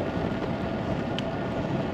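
Low, steady rumbling wind buffets the microphone up close, a continuous dull roar without pauses.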